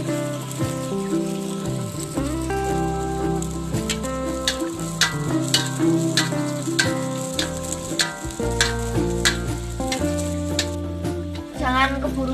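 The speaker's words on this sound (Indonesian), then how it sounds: "Ini kita goreng dengan api kecil." Steady, busy sizzling of martabak usus batter frying in hot oil over low heat, with crackles and pops throughout and a pan gently clattering now and then.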